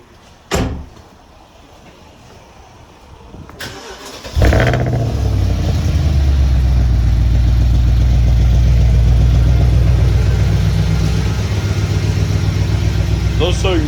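A BMW X5 with air suspension and a 400 bhp tune clunks shut, then the engine turns over, catches and settles into a loud, deep, steady run close by, after a quiet stretch with faint talk.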